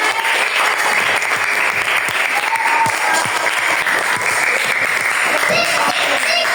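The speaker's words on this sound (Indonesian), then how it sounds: "Tepuk tangan untuk kelompok kinestetik." Sustained, dense applause from a classroom audience for a student group, loud and close, with steady clapping throughout and no voices over it.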